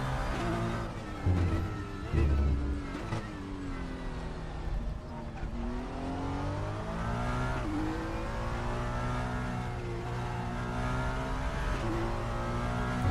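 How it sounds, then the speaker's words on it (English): Ferrari 296 in the RaceRoom racing game, engine climbing and dropping through gears with a high transmission whine riding over the steady loud drone, no talking. "I like that transmission whine that you hear"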